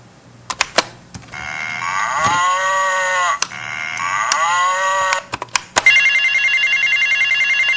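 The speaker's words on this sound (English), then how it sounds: "That's a novel ringtone." A loud, close novelty ringtone plays a mooing, cow-like sound in two long sweeps, then switches to a buzzy electronic trill, with sharp clicks between.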